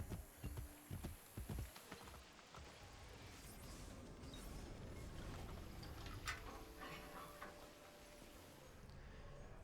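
Horse hooves clip-clopping in the video game Assassin's Creed: Brotherhood, a few sharp irregular hoof strikes up front giving way to a busy, faint ambient bed of game sounds.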